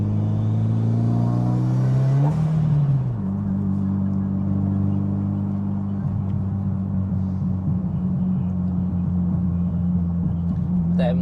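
Road traffic passes close by with a loud, continuous low engine and exhaust drone, one vehicle's pitch dropping early on, then a steady rumble throughout.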